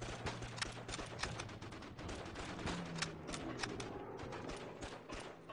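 Rapid bursts of gunfire from a favored gun in a video game, dense crackling shots in quick succession, loud and close, continuing throughout without talk.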